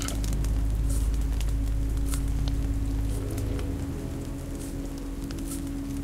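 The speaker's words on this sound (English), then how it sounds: "This rain will turn to sleet, then ice, then snow." Video game rain from The Walking Dead: The Telltale Definitive Series pours down with a dense hiss, scattered droplets pattering on surfaces over a low rumble, with no voices.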